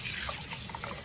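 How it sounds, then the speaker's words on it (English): Green beans rinsed in cold running water, a soft trickle and splash of water under a faucet with small irregular drips, fairly quiet and alone. "wash them good in cold water."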